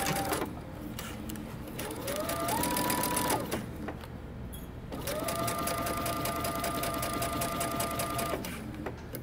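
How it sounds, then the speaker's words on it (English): Close sewing machine stitching a coat seam in two bursts: a short backstitch run with a shifting whine, a brief pause, then a longer steady whirring stitch that slows at the end. "we're going to backstitch and stitch using 5/8 of an inch seam allowance"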